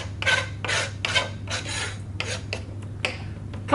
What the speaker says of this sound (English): Here's my melon. I'm just going to trim it a little bit, take off the top.